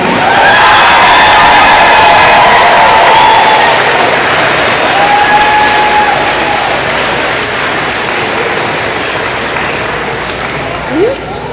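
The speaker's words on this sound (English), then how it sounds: "Let's give the class of 2026 a round of applause." A large middle school assembly crowd applauds and cheers for a graduating class, a loud, continuous roar of clapping mixed with shouts and voices that stays strong and fades only slightly over time.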